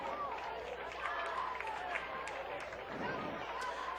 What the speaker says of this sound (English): Round of applause to Robert Perkins.